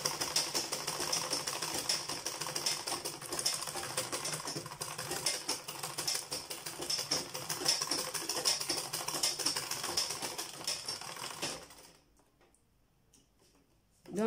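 A sewing machine stitches a leather cord sandal slide, running as a steady, fairly loud rapid clatter for about twelve seconds before stopping abruptly, followed by near silence.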